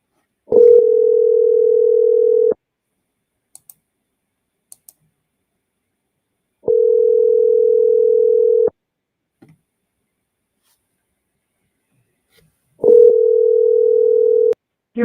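A telephone ringback tone repeats three times, each steady buzz lasting about two seconds with long silent gaps and faint clicks between, before the call is forwarded to voicemail.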